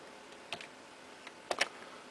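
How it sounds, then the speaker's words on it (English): A few faint, sparse key presses on a computer keyboard as a short service number is typed, two or three separate clicks over a quiet background. "Then I type in the associated service number."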